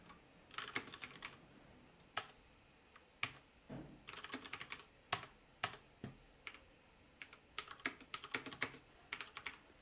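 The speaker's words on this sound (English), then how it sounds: "as I'm typing over here in this telnet window, each character is getting sent" Clicky keystrokes on a computer keyboard typed into a telnet window, coming in quick irregular bursts and single taps with short pauses, close and fairly quiet, with no voices.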